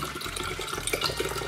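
Bottled water glugs from a bottle into an electric kettle, a steady close splashing pour with no speech.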